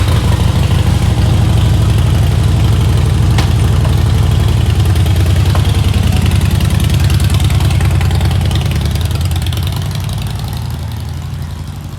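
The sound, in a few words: Harley-Davidson motorcycle engine warming up outside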